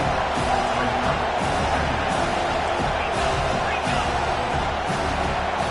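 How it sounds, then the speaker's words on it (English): Stadium crowd roaring during a college football game against Texas Tech, a dense, continuous wash of cheering and noise from a packed venue, loud and sustained under play-by-play commentary. "with this place rocking, the crowd forces a false start"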